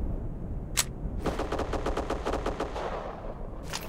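A rapid automatic burst of about a dozen shots rings out in the video game Black Squad. Single sharp cracks come just before and just after the burst, over low background game noise.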